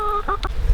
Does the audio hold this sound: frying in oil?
no